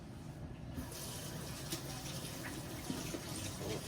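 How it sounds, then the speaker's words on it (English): Tap water runs at a sink for hand washing, a soft, even splashing stream heard faintly throughout with slight variations as the hands move under it. "So now I'm going to go ahead and wash my hands."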